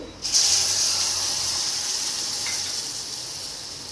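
Milk poured into hot, browned roasted semolina in a pan, setting off a loud sudden hiss and sizzle that slowly fades while it continues, close up with no talk.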